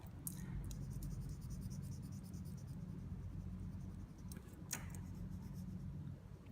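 A pencil crayon strokes back and forth on paper while black and red are layered, a soft continuous scratching with a few sharper scrapes over low background rumble.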